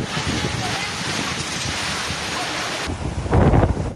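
Typhoon Enteng making landfall in Kasiguran, Aurora: loud, continuous roaring wind and crashing big waves buffet the microphone. A louder gust or surge builds near the end.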